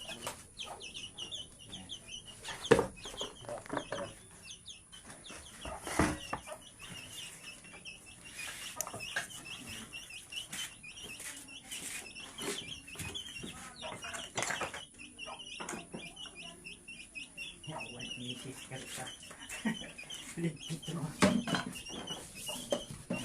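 Chickens cluck and call near a house in Barangay Odiong, Altavas, during a search-warrant raid, bursts recurring over a steady, busy background with people talking intermittently.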